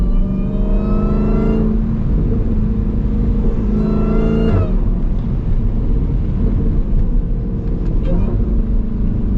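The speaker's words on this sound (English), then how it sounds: "That Corsa exhaust really does." A Jeep Grand Cherokee Trackhawk's Corsa performance exhaust revs hard twice, rising in pitch with a throaty roar each time, then settles into a deep idling rumble up close.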